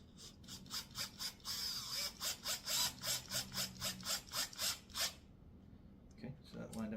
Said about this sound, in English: And we're just going to screw that down.